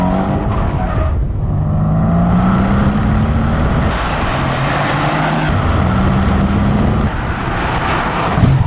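Tuned Mercedes C63s AMG with a stage 1 tune and no other hardware changes driving past, its loud engine roaring and shifting close by as tires squeal, with no talking.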